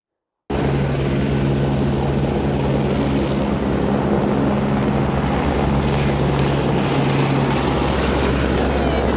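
A helicopter lifting off at the Kedarnath helipad, a loud, steady rotor roar and turbine whine that starts abruptly and holds at full strength throughout, close by with no talk.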